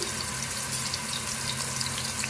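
Garlic-ginger paste frying with onions in oil in a pan, giving a steady, dense sizzle that stays even and fairly close throughout, with no talking.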